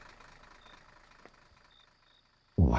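A truck reverses with faint, evenly spaced high beeps over a low, quiet background rumble, and the scene ends in a sudden loud burst of noise.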